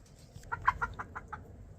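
A hen clucks nearby in a yard, a quick run of about six short clucks, moderately loud against a quiet background.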